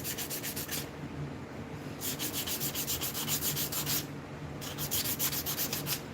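Hand sanding with 100 grit sandpaper, rhythmic scratchy rubbing strokes in steady back-and-forth bursts, close and moderately loud, no talking.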